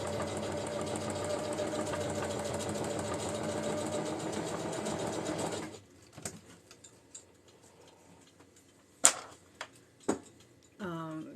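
A sewing machine stitches lining into a granny square tote, a steady fast mechanical whir for several seconds that stops abruptly, followed by scattered clicks, taps and table knocks.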